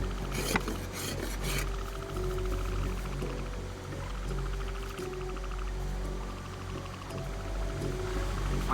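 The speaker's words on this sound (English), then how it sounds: "Now I'm just gonna get some shavings going." A knife carves wood shavings for a fire in a humid forest, making a steady scraping rasp close by, with a few sharper strokes at the start and then a continuous rough rubbing against low background rumble.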